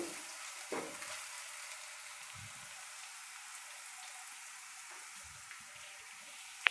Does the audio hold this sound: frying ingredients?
yes